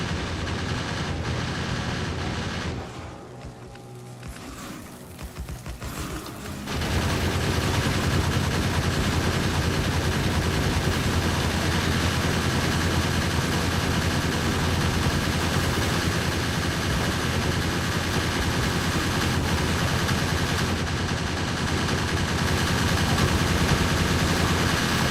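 Gun turret in Factorio Space Age firing on worms, a steady, dense mechanical rattle of rapid shots that drops out briefly near the start, then runs unbroken and loud to the end.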